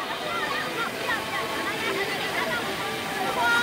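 Rushing water splashes steadily through a river gorge at Emerald Valley near Mugumuyu, a loud continuous wash under excited voices and laughter.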